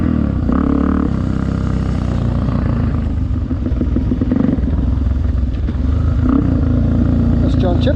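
A dirt bike is ridden on a dirt track at a ranch, its engine a loud continuous rumble that rises and falls as the throttle changes, with rattling and a voice talking over it.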